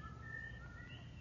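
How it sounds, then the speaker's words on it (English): A man whistles a sustained, wavering tune from some distance away, faint and thin over a low rumbling background with no one talking. "He's whistling again."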